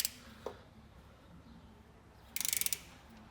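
A hand ratchet tightens bolts on a 1964 Chevy Nova, a quick burst of close, rapid clicking near the end after a couple of isolated metallic taps, over a quiet background.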